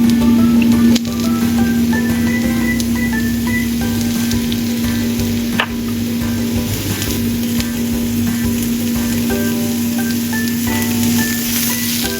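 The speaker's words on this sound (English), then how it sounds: "Add the broccoli, then 1 tablespoon of XO sauce and salt for seasoning, and stir-fry until well mixed." Broccoli stir-fried in a wok with XO sauce and salt, giving a steady close sizzle and frying crackle with a constant low hum beneath, and no talking.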